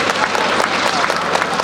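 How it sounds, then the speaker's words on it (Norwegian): An outdoor airshow crowd applauds after a YAK-50 aerobatic display, a brief, even wash of distant clapping with no single claps standing out. "Applaus til Håvard"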